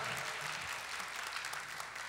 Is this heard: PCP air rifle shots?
no